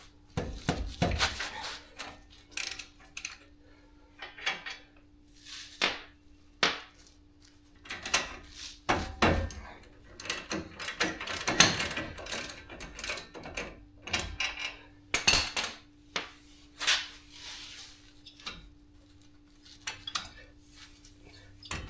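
Metal tools clank and clink in irregular bursts while a brake caliper and rotor are taken off a Cummins truck, with sharp knocks and scrapes scattered throughout and no voices.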